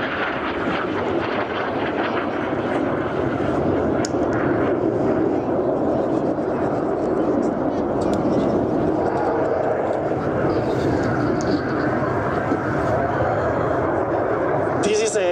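Frecce Tricolori jets fly an inverted Snyder turn at an airshow in Zeltweg, producing a loud, sustained roar of jet engines that fills the whole stretch while a commentator talks over it.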